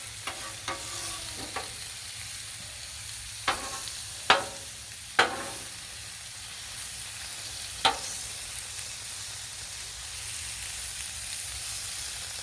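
Country style ribs sear on a Blackstone griddle with a steady, close sizzling hiss throughout, broken by a few sharp scraping clicks of a spatula moving the meat.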